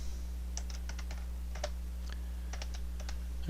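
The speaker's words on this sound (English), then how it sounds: "just type in mesh up" Computer keyboard typing nearby, a dozen or so light, crisp key taps in short irregular bursts over a steady low electrical hum, with no voices.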